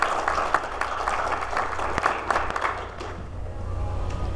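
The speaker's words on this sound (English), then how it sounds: "So if I could just get a nice round of applause for Sue." A conference audience claps for the organiser, a steady dense round of applause throughout that thins slightly near the end.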